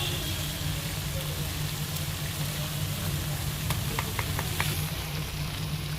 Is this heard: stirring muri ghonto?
yes